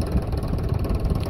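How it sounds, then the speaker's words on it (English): A tractor engine keeps running at idle, its low rattling chug steady and close for a brief stretch, with no speech. "The tractor is still running in the background, so that's the clickety-clack you're hearing."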